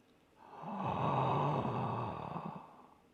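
A single slow, controlled breath, audible up close and quiet, swells and fades as an exercise for calming the voice and stress.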